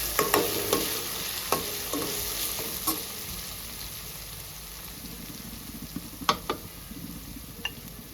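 Tomatoes with spices frying and being stirred in a pan for a stuffed brinjal curry, a steady sizzle with irregular sharp clinks of a spoon against the pan, no speech.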